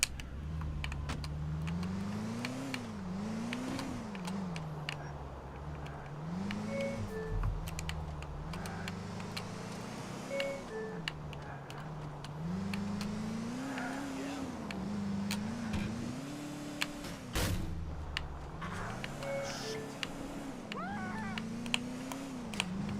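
A car is driven in Grand Theft Auto IV, its engine droning and swelling with repeated rises and falls in revs. Keyboard clicks and scattered game noises sit on top.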